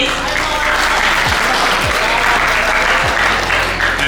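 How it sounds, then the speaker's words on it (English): Audience applause in a school hall at an English talk with a native speaker, a loud, steady wash of many hands clapping together that holds evenly throughout with no break. "give applause please"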